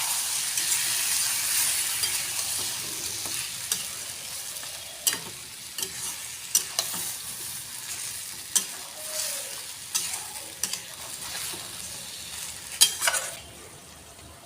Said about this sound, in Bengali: মশলাটা দিয়ে কষাবো।